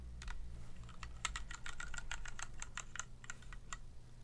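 Keys on a GK68 hotswap mechanical keyboard are pressed one after another to test the switches, producing a quick, uneven run of crisp, close clacks over a low background hum.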